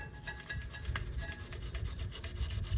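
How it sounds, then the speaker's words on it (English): Continuous brushing and rubbing as brake dust is scrubbed from the caliper of a 1996-2002 third-generation Toyota 4Runner, steady close scraping strokes with no talk. "We just really want to clean up the surfaces that interact with the brake pads and the hardware."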